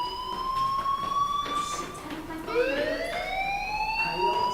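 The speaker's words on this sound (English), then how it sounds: "Hey, do you hear that fire alarm? That means you should be outside." A fire alarm goes off in the video game Life Is Strange, heard as a wailing, siren-like tone that sweeps upward, breaks, and starts again. It stays fairly faint against the background, and nobody speaks over it.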